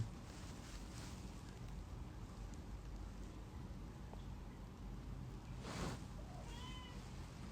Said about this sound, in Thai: แมวร้องแล้ว แมวเรียกผมแล้ว